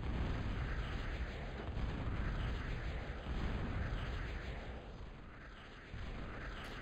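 A bomber aircraft on a bombing run in a video game drops explosives, producing a dense, continuous rumbling roar of blasts that fades slightly toward the end, with a thud near the close and no speech.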